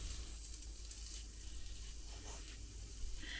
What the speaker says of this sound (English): nice and hot the spray oil that we've got in there, and I'm just going to pop the meat in and let it sear